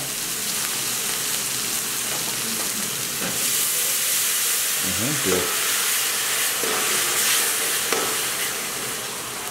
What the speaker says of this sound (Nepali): टोमेटो हैन गोलभेडालाई अब यहाँ फ्राई गर्नु पर्यो